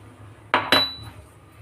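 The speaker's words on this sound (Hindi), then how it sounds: "तो चाय में डालते हैं अदरक।" Ginger goes into tea in a pot with two quick, close metallic clinks a fraction of a second apart, then a low background hum.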